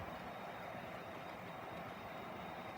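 A long model train of roughly 25 to 30 cars running eastbound around a layout, giving a steady, faint rolling rumble with no pauses.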